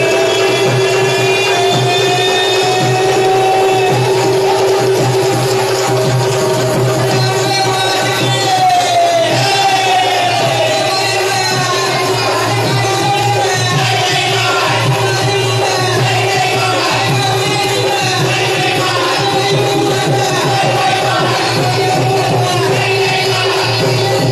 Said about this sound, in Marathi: मोठ्या प्रमाणात भाविकांची गर्दी आहे या ठिकाणी।